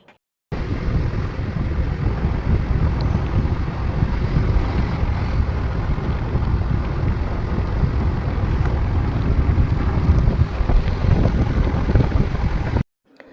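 Steady, loud wind buffeting while riding pillion on a motorbike, a continuous broadband roar that starts abruptly and holds for about twelve seconds before cutting off.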